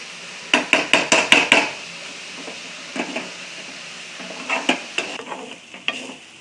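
Grated coconut being roasted and stirred in a pan for green chilli chutney, heard as a quick burst of sharp spatula scrapes and taps, then sparser scraping strokes later, fairly close with no voices.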